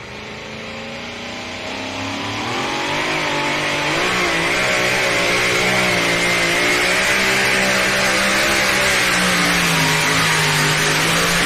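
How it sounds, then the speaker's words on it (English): A two-wheel drive pulling truck at an NTPA truck and tractor pull in Sandwich, Illinois revs hard, its engine roar climbing and then holding loud and steady, close by and alone with no voices. "Two-wheel drive truck out of Beaver Dam, Wisconsin."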